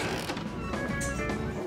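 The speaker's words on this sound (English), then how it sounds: "Come on, door. Open." A creaking, mechanical door swings open in the video game Life Is Strange, a drawn-out squeak with clicking shifts, moderately loud and alone.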